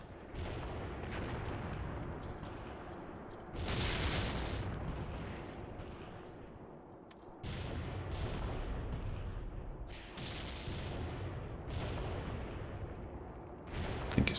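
Artillery and small-arms fire in the war game Graviteam Tactics: distant booms and rumbling bursts arriving every few seconds, each with a decaying tail, over a steady low battlefield rumble, moderately quiet and without speech.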